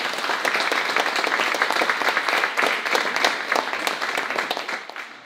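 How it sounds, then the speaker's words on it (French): Audience applauding steadily, a dense wash of many hands clapping at once that holds at an even level throughout, with no voices over it. "On peut l'applaudir parce qu'on ne sait pas chanter."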